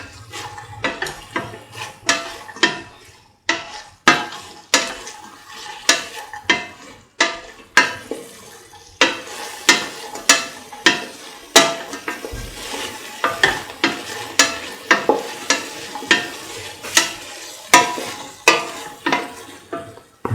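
Long yard bean rice with salt being stirred in a pan, a utensil scraping and clinking against the metal in a steady repeated rhythm over a soft sizzle, close and clear with no talking.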